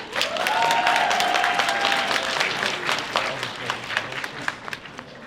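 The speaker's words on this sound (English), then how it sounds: "So round of applause for Courtney." Audience applause at the Game On Expo 2024 costume contest: steady, dense clapping from a sizable crowd, fairly loud throughout, with a few whoops and cheers mixed in before it thins slightly toward the end.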